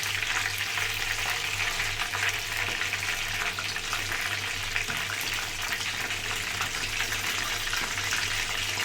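Tilapia frying in a pan, a steady loud hiss and crackle of hot oil that runs unbroken throughout, with no talk.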